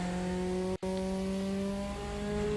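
A Porsche race car in the RaceRoom sim holds a steady, buzzing engine note. The manual gearbox gives a brief dropout during a heel-and-toe downshift, then the revving resumes smoothly and loudly.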